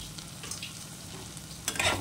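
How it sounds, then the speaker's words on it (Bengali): Fried spice masala of chili powder, salt and turmeric being stirred in a pan, a steady low scraping and soft sizzle that builds to a brighter, louder stir near the end. "এটা দিয়ে আবারও একটু মশলাটাকে নেড়ে চেড়ে দিতে হবে, যাতে মশলাটা পোড়া লেগে না যায়।"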